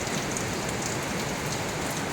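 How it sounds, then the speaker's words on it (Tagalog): Steady downpour from a signal number 2 storm in Cavite, a thick continuous hiss of rain striking surfaces close by, unchanging throughout and with no talking. "Grabing ulan."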